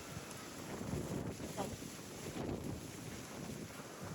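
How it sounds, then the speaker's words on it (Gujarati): Strong wind gusts across an outdoor microphone in rural Kathiyawad, a constant rushing buffet with rumbling swells and no speech. "અમારે છે ને બહુ પવન નીકળી ગયો છે."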